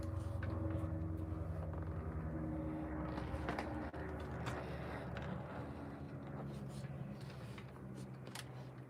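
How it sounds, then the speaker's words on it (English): A helicopter passes overhead near a rural workshop, a steady broadband rotor and engine rumble with low droning tones that stays loud for the whole stretch and eases off slightly toward the end. "Another helicopter flying over."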